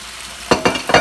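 Pan-seared pork returned to a pan of cooked apples and collard greens sizzles and crackles in three quick bursts as it is stirred, close and loud after a brief quiet moment.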